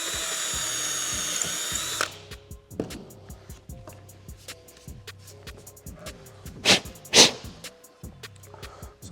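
A power drill whines at high speed, then bores into wood with grinding bursts and a couple of louder spikes as the bit bites.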